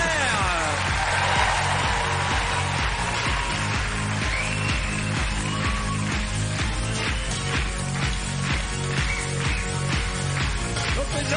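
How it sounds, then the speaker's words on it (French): A studio audience at a French TV game show claps loudly and steadily in a regular rhythm, mixed with music and voices throughout. "On peut les applaudir très fort."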